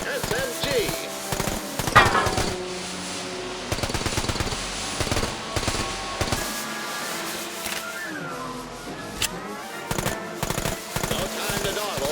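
Fully automatic Johnson SMG bursts in The American Dream VR game, rapid clattering volleys recurring through the clip, mixed with game music and a narrator's voice talking over the action.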